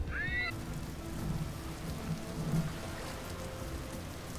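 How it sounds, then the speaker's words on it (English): Steady rain falls in the video game Vintage Story, a soft, even hiss of drops with faint low rumbles beneath, and a brief high chirp at the very start. "it's nice and rainy and wet out here"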